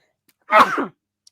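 A single sharp human sneeze, close and loud, set against near silence.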